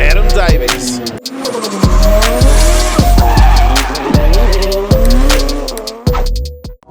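Drift cars at round 2 of the 2021 Valvoline D1NZ Drifting Championship at Manfeild slide side by side with loud, shrieking tyre squeal, over roaring engines that rise and fall through repeated gear changes, very close and intense.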